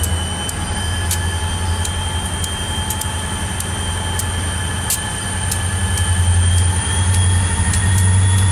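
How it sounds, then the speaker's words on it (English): An ethanol train rolls past with a steady low rumble and a continuous roar of wheels on rail, plus faint periodic clicks from the rail joints, loud and close for the whole stretch. "Ironton also marks the transition to the autumn season, where we see an ethanol train."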